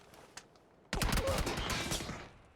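Sustained gunfire in a shooter video game breaks out suddenly after a quiet stretch, a loud dense burst of rapid shots that carries on with rattling bursts, with a faint earlier click.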